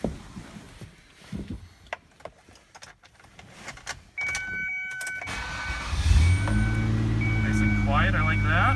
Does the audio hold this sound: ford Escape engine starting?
yes